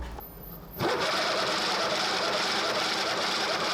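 An unlubricated 3D-printed planetary gearbox starts up after a brief quiet moment, then runs with a loud, steady, buzzing whir that holds evenly to the end.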